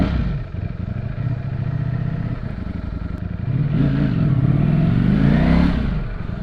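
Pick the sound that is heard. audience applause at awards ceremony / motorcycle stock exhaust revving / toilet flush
motorcycle stock exhaust revving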